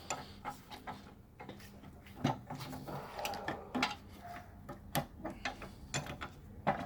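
A polypropylene pipe is tightened in a bench vise, producing a series of close, quiet ratcheting clicks and small mechanical knocks at an uneven rhythm, with no talking.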